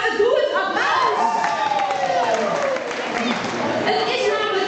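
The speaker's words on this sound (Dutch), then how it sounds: "Applaus!" Village quiz audience at the Aldjier Famylje Kwis in Marsum applauding a round, with steady clapping carrying under laughter and voices throughout.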